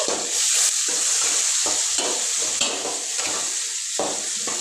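Ginger garlic paste sizzles steadily in a pan with cooked-down tomato, broken by regular stirring scrapes about every half second, close and fairly loud with no voices.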